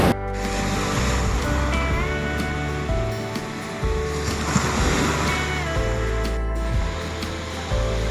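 Sea surf rolling onto a beach in Goa, a continuous, loud, close roar of breaking waves with steady wash and no talking.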